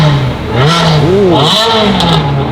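A Ferrari engine revving loud and close at a large gathering of Ferraris, climbing and falling in pitch through a quick blip before settling back to idle.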